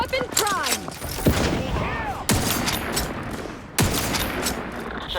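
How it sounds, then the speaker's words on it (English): A wrist weapon fires in The Outer Worlds 2, loud repeated gunshot bursts cracking out at intervals over game sounds, with voices speaking between the shots. "Wrist weapon prime!"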